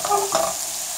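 Goat cheese and omelette ingredients sizzle in a frying pan, a brief close hiss with a couple of stirring scrapes.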